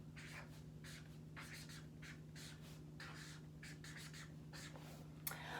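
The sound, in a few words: writing by hand on paper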